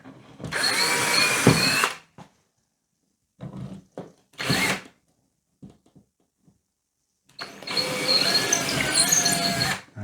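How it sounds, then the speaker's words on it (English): A power drill whirs in three bursts while drilling pilot holes into a wall, a long run, a short one, then another long run, with quiet pauses and faint handling noises between. "I'm going to drill that pilot hole through the existing holes"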